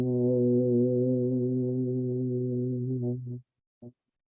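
A voice hums a low, steady droning tone imitating a meditative inner sound like a giant Tibetan bowl, holding for about three seconds before breaking off, followed by a brief second hum.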